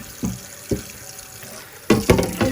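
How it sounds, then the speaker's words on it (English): A pan is washed under a running kitchen tap, with intermittent splashes and water bursts, a few sharp sloshes near the end. "I'm going to wash this pan right quick"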